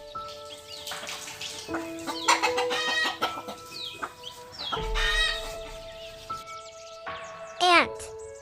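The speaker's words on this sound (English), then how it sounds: "rooster and hen," Rooster crowing and a hen clucking, mixed with busy farmyard fowl calls and a cartoonish musical backing, the crow rising near the end over steady clucks.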